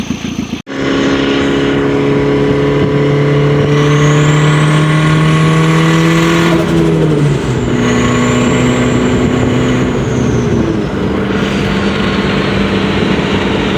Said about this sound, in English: I actually wanted to see how this drives along going down the highway.